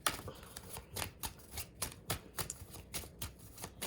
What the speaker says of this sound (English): as I shuffle these cards